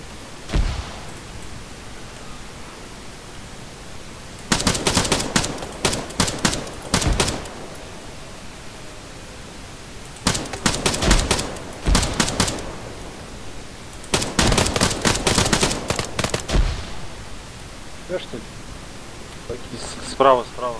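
Machine gun fire rattles in the video game ArmA, several long rapid bursts of repeated shots over a steady hiss, loud and close.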